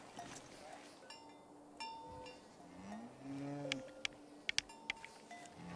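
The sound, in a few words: cow mooing in the video game Season: A Letter to the Future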